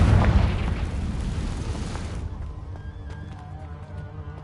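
A Confringo explosion spell goes off in the video game Hogwarts Legacy: a heavy, rumbling boom bursts at the start and rolls on for about two seconds before dying into quieter ambient game sounds.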